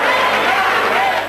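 A crowd shouts angrily at police during an eviction, a dense, loud wall of overlapping voices and yells heard close and continuous.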